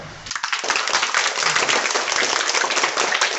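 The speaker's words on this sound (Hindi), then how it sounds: "वेरी गुड, तालियां बजाओ।" A crowd of schoolchildren bursts into steady, dense applause, many hands clapping loudly and continuously throughout.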